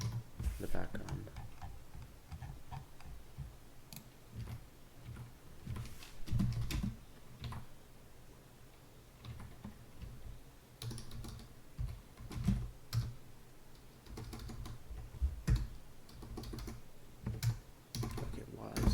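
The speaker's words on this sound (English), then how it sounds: "you won't have to hear this membrane keyboard in the background" A membrane computer keyboard clicks in soft, irregular bursts of keystrokes throughout, fairly faint and close, under someone talking.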